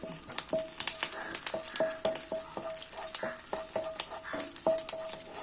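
Curry leaves and green chili sauté in hot oil for a beef curry, with a soft sizzle beneath frequent sharp clicks and taps of a spoon stirring against the pan.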